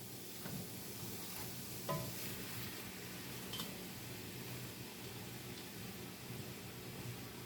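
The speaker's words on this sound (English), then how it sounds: "So we're going to saute these together, I would say, for about 10 minutes." Onions, celery and shredded carrots sauteing in oil give a steady, quiet sizzle with a few soft stirring scrapes and clicks. No one talks.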